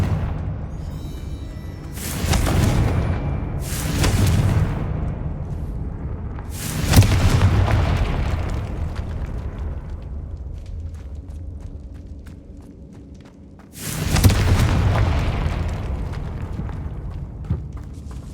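In Hogwarts Legacy, the Confringo fire spell goes off inside a tomb as a series of heavy booming blasts, each a loud sudden burst fading into a long rumbling tail, with a quieter stretch between them.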